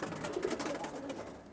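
Pigeons coo softly and repeatedly in a loft, among them a golden pigeon hen and a Kaldom cross. The low murmuring is fairly faint and continuous.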